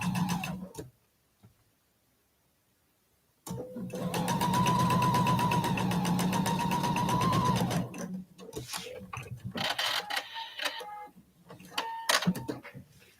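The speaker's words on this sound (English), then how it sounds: "Now I'm going to sew with that perfect 1/4 inch." Sewing machine stitching a quilt border strip with a 1/4 inch seam, running steadily and close for about four seconds after a silent pause, then short stop-start bursts with handling clicks.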